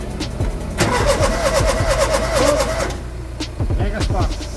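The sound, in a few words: Ford Capri reconditioned engine cranking over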